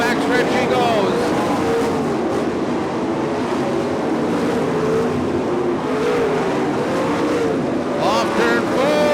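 Sprint car in a lightning sprints race on the last lap, roaring down the backstretch, its engine drone steady and loud under continuous crowd and track noise.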